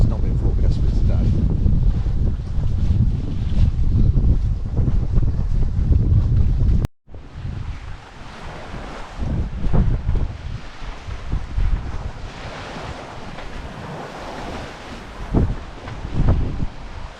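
Strong wind buffets the microphone aboard a sailboat at sea, a loud continuous roar that drops out briefly and returns with softer gusts and water wash, with talk heard in parts.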